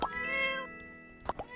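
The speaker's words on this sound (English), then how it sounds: "I see the cat." Cat meowing in My Time at Portia, a clear, close, drawn-out tonal meow followed by a short second chirp-like mew.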